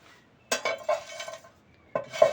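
Whole spices, bay leaf and coriander seeds, are stirred in a metal pan while dry-roasting, with a spoon scraping and clinking against the pan in two short bursts separated by a quiet pause.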